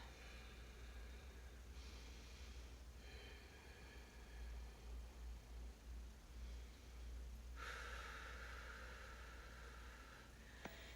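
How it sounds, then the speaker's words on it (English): Very faint, slow ujjayi yoga breaths with a soft, throaty rushing quality, a few long inhales and exhales over low background hum. "ujjayi breathing, where you're making a humming sound"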